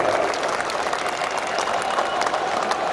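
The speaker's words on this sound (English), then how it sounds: "may I request a very hearty applause to the speakers when they are coming up on stage" Hearty audience applause for speakers coming up on stage at a national debate competition in Kolkata, a continuous, even wash of many hands clapping throughout.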